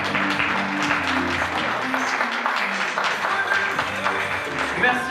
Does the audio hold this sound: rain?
no